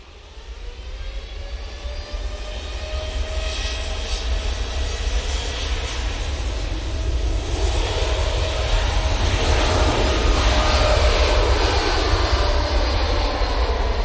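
Jet engines of a Boeing 777 airliner at Manchester Airport roar as a steady, loud, broadband rumble with a rising whine that builds slightly over about fourteen seconds, with no voices.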